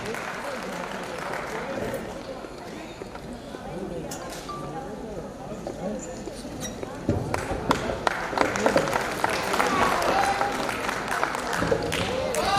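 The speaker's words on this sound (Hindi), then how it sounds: "आप सबकी ज़ोरदार तालियों में।" A crowd at a comedy stage show applauds a performer, with clapping and chatter filling the hall and growing louder and denser in the second half, under ongoing speech.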